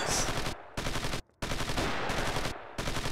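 Gunfire from the 2003 World War II tactical game Squad Assault: West Front: loud bursts of rapid automatic and rifle fire in several clusters, separated by brief silent gaps.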